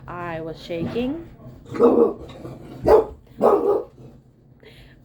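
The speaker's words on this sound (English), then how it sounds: "My apologies about the barking." Dog barking several times in a home, loud sharp barks close by, mixed with a person talking at the start.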